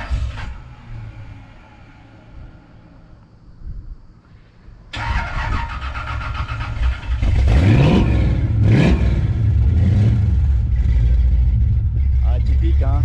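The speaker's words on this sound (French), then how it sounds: "on va faire un petit démarrage à froid, histoire d'entendre ronronner ce beau V8 américain." A 1968 Chevrolet Impala four-door with a 5.7L V8 is cold started after some muffled talk. The starter cranks, the engine catches loudly up close, then settles into a deep, rumbling idle with a few blips of throttle.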